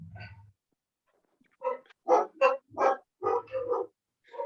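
A dog barks in a quick run of five or six close, fairly loud yelps, with a low grunting sound just before and after, during a quiet moment at a home.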